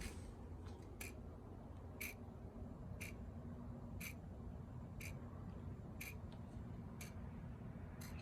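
Electrical clicking from a John Deere 111 lawn tractor with the key on, a sharp regular tick about once per second over a steady low hum, close and fairly faint.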